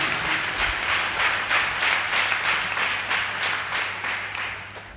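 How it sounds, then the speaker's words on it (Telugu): A church congregation claps loudly together in a steady, rhythmic beat that continues through the whole stretch. The clapping is dense and close and sounds out on its own with no talk. "గట్టిగా చప్పట్లు కొట్టండి"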